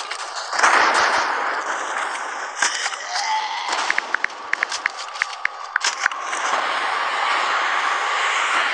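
Gunfire in the Roblox game Zombie Uprising: rapid shots crackle over a constant droning game background, with scattered sharp bursts clustered midway.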